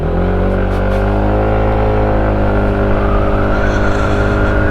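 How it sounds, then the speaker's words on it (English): A SYM ADX 125 scooter engine idles steadily while warming up in the early morning, a loud, continuous motor drone with a slight rising tone throughout. "taking it easy to warm up the engine, to dry off the morning dew"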